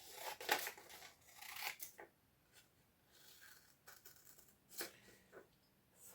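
Scissors snip through sweatshirt pattern fabric in a few quick close cuts, followed by softer rustling and handling of the cloth with quiet gaps between.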